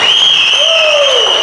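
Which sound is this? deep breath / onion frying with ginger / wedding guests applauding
wedding guests applauding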